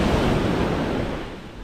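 Waves washing onto a Caribbean beach at a regatta hub, a steady broad surf roar with some wind noise, gradually easing off, no voices.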